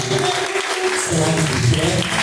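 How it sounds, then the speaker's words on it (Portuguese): Congregation applauding at an evening worship service, a steady wash of clapping throughout with voices and music-like tones mixed underneath. "Palmas do nome do Senhor."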